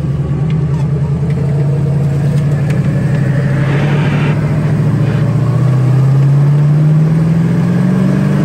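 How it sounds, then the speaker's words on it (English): A 1967 Ford Mustang convertible engine runs steadily with a rising whine near the end from the power steering, loud and close. "Goofy noise in the power steering."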